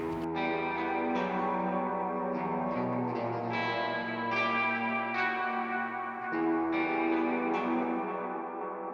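A detuned electric guitar plays slow, eerie notes drenched in reverb and delay, each tone ringing and smearing into the next.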